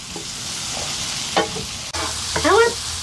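Fully cooked chicken meatballs fry in a pan with a steady sizzle, broken by stirring scrapes and a brief clatter, while a voice briefly calls out nearby.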